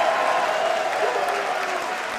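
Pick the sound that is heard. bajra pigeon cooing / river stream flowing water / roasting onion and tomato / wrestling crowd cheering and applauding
wrestling crowd cheering and applauding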